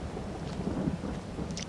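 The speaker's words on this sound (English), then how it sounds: "it's raining, so it's gonna be a wet ride" Rain falls steadily on a farm at harvest time, a dense, even hiss with faint low rumbling underneath, with no voices.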